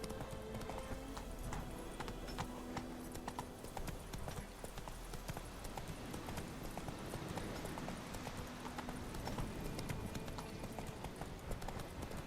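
Roach, Geralt's horse in The Witcher 3, gallops at speed with steady rapid hoofbeats clopping continuously at a moderate level over ambient game sound, and brief talk over it.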